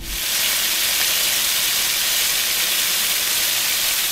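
Fish fillets sizzle in melted butter in a hot skillet, a loud, steady, close hiss that continues without a break.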